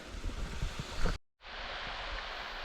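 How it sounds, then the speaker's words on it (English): A small hidden waterfall at Pages Pinnacle, running with low flow, gives a steady broadband rush of falling water, close and moderately loud, with a brief drop-out partway through before the wash resumes. "The waterfall I'm after."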